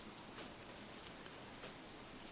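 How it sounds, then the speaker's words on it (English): Rain falls steadily in Don't Starve, a faint continuous hiss of drops with no talk over it and only slight swells in intensity. "It really is kind of a perfect time with the rain."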